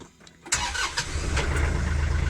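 A TYM 394HC compact tractor's diesel engine cranks briefly and fires up, then settles into a loud, steady close-range idle.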